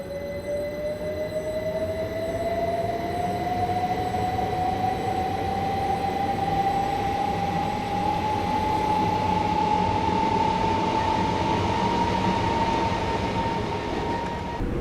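A simulated train rumbles steadily along the London Victoria to Brighton route in Train Simulator 2016, with a continuous loud running noise and a rising motor whine as it gathers speed.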